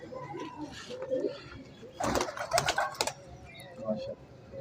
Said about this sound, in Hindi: ये देखें जी, ये कबूतर हैं जो उड़ाने के लिए